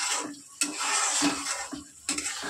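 A spoon scrapes and clinks against a pan while spiced egg curry with garam masala is stirred, with sharp metallic knocks over a steady sizzle and no talk.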